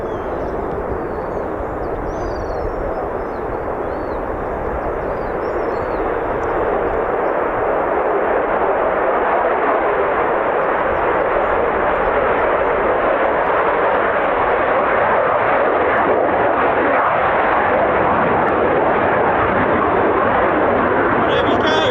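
An F-35B stealth fighter passing overhead, a loud, rushing jet roar that builds and holds for a long stretch, with people talking beneath it.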